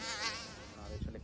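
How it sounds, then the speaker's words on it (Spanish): Mosquitoes buzz in a thin, high, wavering whine, close and fairly loud for just over a second, with no other sounds. "No hay nada más molesto que el zumbido de los mosquitos al tratar de dormir por las noches."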